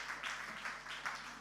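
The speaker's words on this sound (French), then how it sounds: "Est-ce qu'on ne peut pas bien les applaudir" A church audience applauds the worship team in a brief, faint patter of scattered clapping that swells in a few soft waves.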